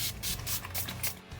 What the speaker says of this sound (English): I'm going to set my face using the Body Shop setting spray.